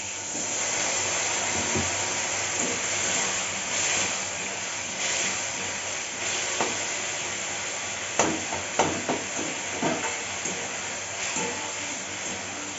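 A splash of water hits a hot pan while cooking a spicy soybean bara dish, producing a long, loud, steady hiss of steam, with scattered clatter and taps of utensils near the end.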